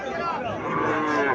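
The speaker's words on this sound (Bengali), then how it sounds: "এখানে আরো একটা বাছুর দেখা যাইতেছে," A calf at the Mirshanni cattle market in Comilla gives one loud, sustained moo that fills the whole moment up close, with no other clear sound over it.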